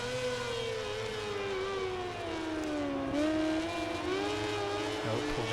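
Motorcycle engine in MotoGP 18 screaming at high revs during a wheelie on a race lap, a steady loud whine whose pitch dips slightly and climbs again, with no talking.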